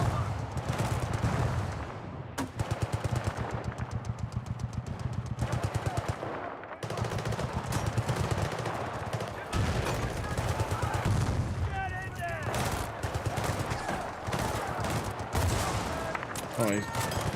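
Battlefield 6 multiplayer gunfire: dense, continuous automatic fire and bursts of shots, loud and close, with faint talk partly under it.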